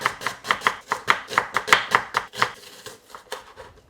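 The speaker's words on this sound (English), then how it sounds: "take a couple of onions, thinly slice it" Onions being thinly sliced with a knife on a board, about a dozen crisp, evenly spaced cuts in quick rhythm that slow and soften toward the end, close and alone.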